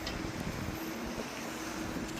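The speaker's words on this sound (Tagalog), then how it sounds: "maaliwalas, windy, malakas ang hangin" Steady, loud wind rushing across the microphone in a park, a constant broadband roar with low rumbling buffets and no voices.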